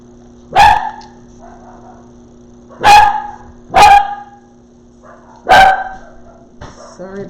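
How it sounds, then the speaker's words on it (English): Dogs bark indoors at home, four loud, sharp barks close by, each separated by a second or more of quiet, with a steady low hum underneath and a brief clatter at the end. "Sorry about the dogs."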